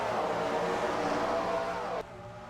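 Stock cars at Richmond Raceway in a racing video game restart on the green flag: a steady, dense engine roar of a pack at full throttle that drops back sharply near the end.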